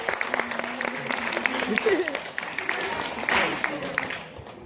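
A middle school audience applauds for Amanda during a student assembly, a moderate spread of clapping that swells and fades, with voices and a shout or two mixed in.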